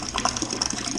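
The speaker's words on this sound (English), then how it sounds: "And I'll like to do it from a height again. Give it some aeration." Raspberry puree for a home-brewed imperial raspberry chocolate oat stout, poured from a height to aerate it, giving a close, continuous splashing gush of liquid throughout one second.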